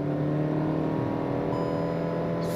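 A Hyundai Verna sedan accelerates at full throttle in second gear, its engine giving a loud, steady, close drone that holds nearly constant throughout, with no voices.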